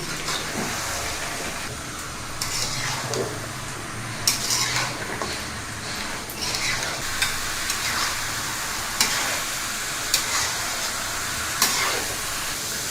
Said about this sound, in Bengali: 1 মিনিট পরে আমি মাংসগুলো নেড়ে নিচ্ছি